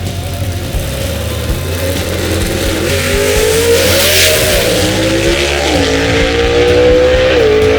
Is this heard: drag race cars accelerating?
yes